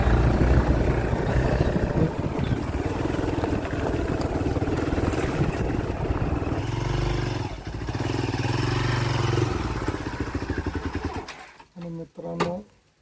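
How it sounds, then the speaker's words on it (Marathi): A Hero Xpulse off-road motorcycle engine runs with a steady rumbling drone close by, then cuts away near the end, while someone talks over it. "मित्रांनो ऑफ रोडिंगची बाईक आहे एक्सपल्स."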